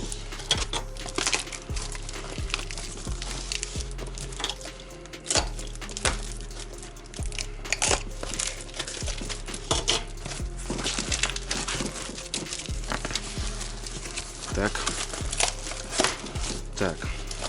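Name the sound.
opening a cardboard box sealed with tape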